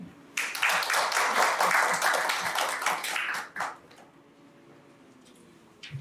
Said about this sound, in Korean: 큰 박수로 박성욱 교수님을 모시겠습니다